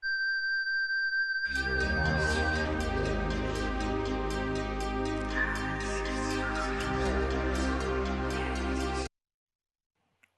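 A sustained, ringing flute tone with echoing delay repeats washes through a dense, reverberant mix that cuts off abruptly near the end, leaving silence.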